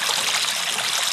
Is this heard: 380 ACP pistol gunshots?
no